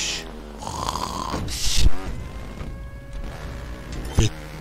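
Loud, rattling snoring like a dying hospital patient on a respirator, heard as rough nasal snorts and drawn breaths, close up, with someone speaking French at the same time.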